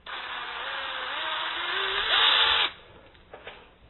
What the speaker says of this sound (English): Drill this plastic out.